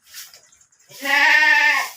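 A large pregnant nanny goat in labour gives one loud, drawn-out bleat close by, after a few faint rustling sounds.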